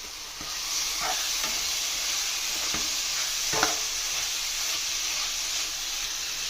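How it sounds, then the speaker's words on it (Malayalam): Chicken sausage curry sizzles in a pan while being stirred with fennel and cumin powder, a continuous hiss broken by several spoon scrapes and knocks at irregular intervals, close and fairly loud with no talking. "ചെറിയ ജീരകവും പൊടിയിട്ട് കൊടുക്കണം. എന്നിട്ടൊന്ന് ഇളക്കി കൊടുക്കണം."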